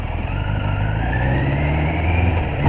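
A Kawasaki GPZ900 motorcycle engine drones steadily on a ride, its pitch rising slowly as the bike pulls away, loud and close with no talk.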